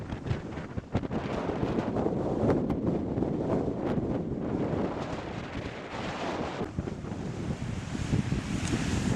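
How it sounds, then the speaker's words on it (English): Strong, cold wind buffets the microphone on a coastal walk from Folkestone to Rye, roaring continuously with gusts over the wash of surf and sea spray, loud and close with no speech. "it's been very blowy and cold, not too bad, not as bad as last week"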